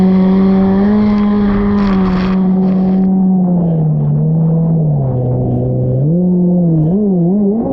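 A Sea-Doo jet ski, a Commander or SXR, runs on open water with a loud, close, continuous engine drone whose pitch dips and climbs with changes in throttle.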